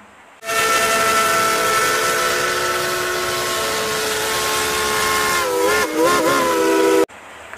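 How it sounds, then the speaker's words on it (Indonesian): A loud, sustained steam train whistle from a toy blows for several seconds, steady and piercing, wavering briefly near the end before cutting off abruptly. "Wah, ini kereta api uap."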